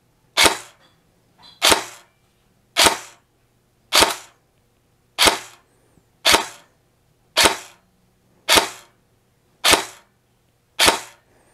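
A Matrix Sportsline M4 airsoft gun firing 0.2 gram BBs through a chronograph, ten sharp, evenly spaced shots about a second apart, each a loud crack with a short decay, against a faint steady hum.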